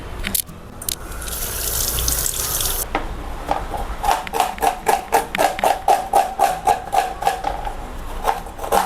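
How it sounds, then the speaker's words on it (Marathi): Onions being washed under a running kitchen tap for a Maharashtrian stuffed brinjal dish. A strong gush of water fills the sink, then gives way to rapid rhythmic splashing and dripping as the onions are rubbed and rinsed up close. "कांदे स्वच्छ धुवून घ्यायचे."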